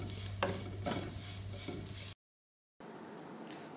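Spice powders stirred in hot coconut oil for a Kerala rabbit roast, with rhythmic spoon scrapes over a close, steady sizzle, cut by a brief silent gap before the frying resumes more quietly.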